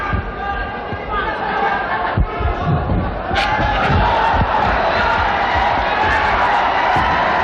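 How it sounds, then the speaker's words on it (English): A boxing crowd roars and cheers during a Manny Pacquiao fight, a loud continuous arena din that swells in the second half, with shouts rising above it. "The crowd egging on Pacquiao."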